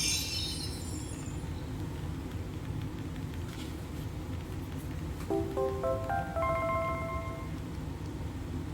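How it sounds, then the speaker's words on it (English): A phone ringtone sounding from a computer plays a short sequence of clear, stepped electronic tones late in the stretch, over steady low background hum and noise. "Sorry about the phone there. That was actually ringing on my computer"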